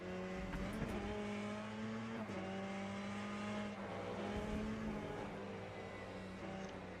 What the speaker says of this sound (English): The fucking hypercars come at just so fucking quick, don't they?